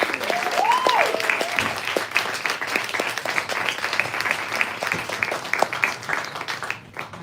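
A bookstore audience at a live poetry reading applauds a poet, a sustained crowd clapping with some sharper individual claps, while a voice rings out briefly near the start and the applause tapers toward the end.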